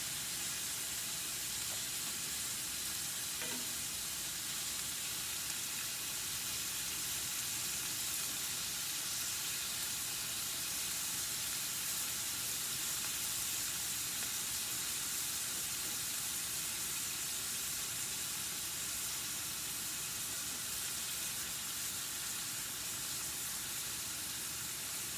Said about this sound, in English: I'm gonna fry this up, finish browning this up